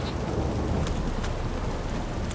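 Steady rain pours in The Witcher 3: Wild Hunt, a dense, even hiss with faint distant rumbles, alone and continuous.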